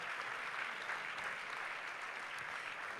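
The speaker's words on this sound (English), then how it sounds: "please give them a big round of applause" A crowd at a charity runway show applauds, a continuous hiss of many hands clapping, even and fairly quiet, with no voices over it.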